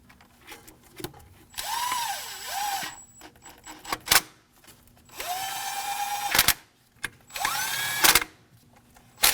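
A power drill or impact driver snugs down water pump bolts on a 2009-2014 Ford F-150 3.5L V6 engine. It gives three close, loud bursts, the first rising and falling in pitch, with short pauses and clicks between them.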